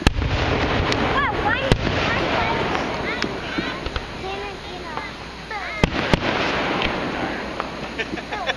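Fourth of July fireworks display in Stroudsburg, Pennsylvania, with sharp bangs and distant booms, two especially loud cracks, popping on and off beneath nearby people chatting throughout.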